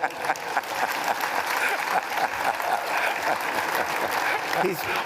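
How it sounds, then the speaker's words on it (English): Applause from an audience at a political talk event with a well-known politician, steady and fairly dense, with some speech mixed into the clapping throughout. "He's clapping forcefully."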